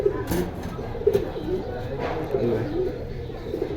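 Pigeons from a breeding pair kept for sale coo in soft, low, repeated bursts close by, running under steady conversational speech throughout.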